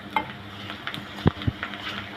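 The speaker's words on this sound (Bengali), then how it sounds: "আদা রসুনটা ভালো করে একটু ভেজে নেব যাতে কাঁচা গন্ধটা দূর হয়।" Ginger garlic paste frying in a pan: quiet sizzling with light scraping and a couple of dull utensil taps against the pan, no talk.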